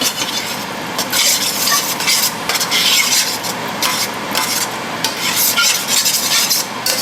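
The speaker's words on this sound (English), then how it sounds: "I'm just going to stir this up, continue a little bit of low heat for about 10 more minutes." Shredded beef ropa vieja stirred in a pot over low heat, loud repeated scraping and rubbing strokes in an uneven rhythm over a continuous low sizzle.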